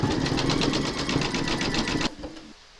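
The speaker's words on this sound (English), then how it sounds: "We're now going to do the satin stitching around the berries." An embroidery machine runs a rapid, even satin stitch around appliqué berries on a hooped Mrs Claus design, a loud close whirring with steady needle pulses for about two seconds before it stops.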